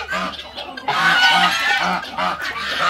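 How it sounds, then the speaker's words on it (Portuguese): Geese and other farmyard fowl honk and squawk loudly together during a round-up on a Brazilian poultry farm, with repeated overlapping calls filling the clip. "Olha o ganso."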